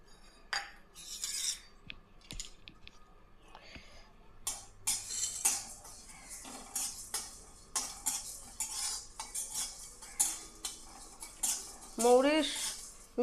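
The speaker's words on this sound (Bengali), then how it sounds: "মৌরি ভেজে নিচ্ছি।" Fennel seeds dry-roasting in a dry pan for a Bengali chutney, stirred with a utensil that gives repeated scraping and clinking strokes against the metal, moderately close, with no talk.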